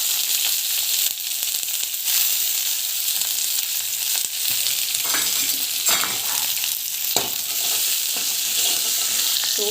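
Onion frying in oil with cumin in a pan, making an even, close sizzling hiss with some stirring scrapes and a few sharper crackles near the end, with nobody speaking.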